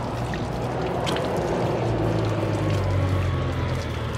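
Water pouring and splashing while someone washes their face outdoors in a village, a steady close wash of running water with a soft low rumble underneath.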